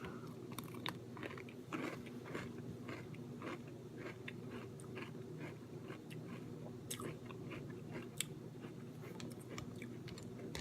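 Chocolatey Crunch cereal with milk being chewed close up, with soft, repeated crunching and wet mastication sounds in an irregular rhythm, faint and continuous, with no talking.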